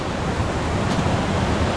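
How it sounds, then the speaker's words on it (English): A waterfall in Genoa, Italy, roars as a steady, dense broadband rush that stays close and loud for the whole moment without any voices. "So we found our waterfall."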